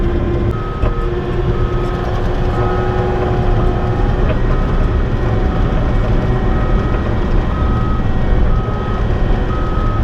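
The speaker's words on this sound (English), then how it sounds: "Cool thing about a skid steer, unlike a dozer, nobody will complain about you back dragging with it." A skid steer back-drags loose, clean rock on a Vermont site, its engine droning loudly under a steady, repeating reversing beep.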